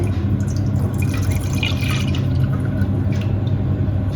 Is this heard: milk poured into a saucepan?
yes